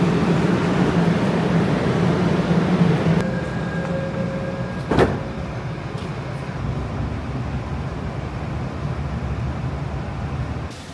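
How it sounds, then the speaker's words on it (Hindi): A train pulls into a station with a loud rumble that settles as it slows. A sharp clank and a brief hiss follow, sounding like doors or brakes, over steady ambient noise. "ट्रेन आ गई है अपनी, चलें अब हम,"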